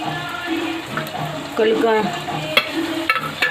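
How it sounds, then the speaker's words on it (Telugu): Sliced onions frying in hot oil in a pan, a steady crackling sizzle with brief stirring scrapes and clinks, close and moderately loud. "కోసుకున్న ఉల్లిపాయలు వేసాం. ఇవి బాగా వేగాలి."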